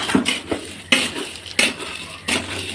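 Spoon scrapes and clinks against a metal pot in four or five evenly spaced strokes while fried flattened-rice chivda is tossed with turmeric and chivda masala, close and clear with no talk.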